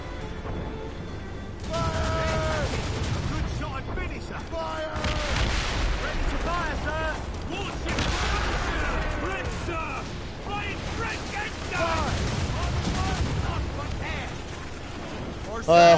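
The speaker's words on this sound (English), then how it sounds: "We got one more mortar to use" Ship mortar fire in the video game Assassin's Creed Rogue, a dense, continuous rumble of booms and blasts mixed with game music and shouting voices throughout.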